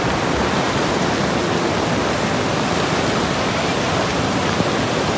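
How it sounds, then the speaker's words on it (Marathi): A river swollen by overnight rain rushes beneath a bridge, a loud, dense, unbroken roar of floodwater that stays level throughout. "कसलं खतरनाक पाणी आहे."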